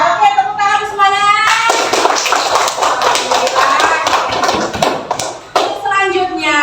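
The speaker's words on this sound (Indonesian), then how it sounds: "Oke, tepuk tangan semuanya." Schoolchildren in an Indonesian classroom break into clapping after a math lesson, a brisk, busy patter of many hands in the middle stretch, framed by a teacher's voice and children talking before and after.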